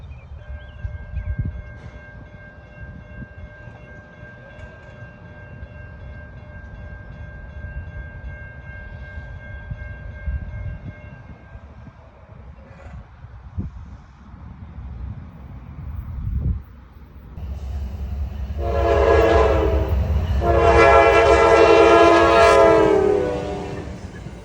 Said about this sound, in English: I'm waiting on Amtrak's 176 Northeast Regional